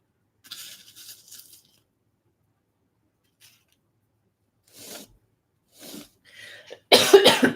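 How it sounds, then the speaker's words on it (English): Several short coughs from a person wrapping up a mixed media canvas, a few faint bursts at first, then louder, closer coughing fits near the end, with silence between them. "I'm sorry, you guys, from coughing."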